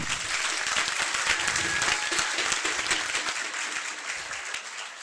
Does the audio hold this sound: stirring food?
no